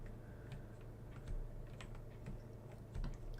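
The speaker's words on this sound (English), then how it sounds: "I've been playing this on my normal keyboard the whole time, sending sound waves straight into my microphone." Typing on a normal computer keyboard: a steady patter of sharp keystroke clicks in an uneven rhythm, close to the microphone over a constant low hum, with no talking.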